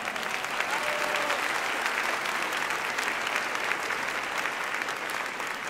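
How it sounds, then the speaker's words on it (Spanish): A large audience claps steadily at a Catholic priest's event in Puebla, the many-handed applause sustained and even, close and full from start to finish. "ya ese aplauso sea para todos los poblanos"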